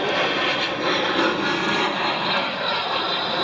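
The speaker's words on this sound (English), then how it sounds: "And there goes an airplane" Airplane passing overhead outdoors near a lake dock, a broad steady roar of aircraft engine noise, moderately loud and continuous.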